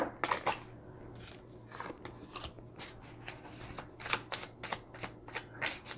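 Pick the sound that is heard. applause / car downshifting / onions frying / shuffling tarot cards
shuffling tarot cards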